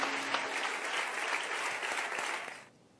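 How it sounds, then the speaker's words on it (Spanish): Sustained applause from a Spanish parliamentary audience, dense clapping for nearly three seconds before fading out quickly. "¿Quieres aplausos? Pues ahí los tienes."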